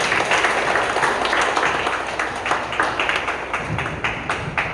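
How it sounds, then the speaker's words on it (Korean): Audience applause at the opening of a solo art exhibition in an Insadong gallery, a dense burst of clapping that holds steady and loud for the whole stretch. "열렬하게 박수 부탁드리겠습니다."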